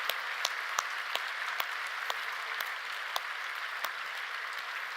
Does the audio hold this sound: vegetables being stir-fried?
no